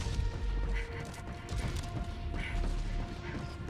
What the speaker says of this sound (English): Oh, there's an orbital bombardment happening.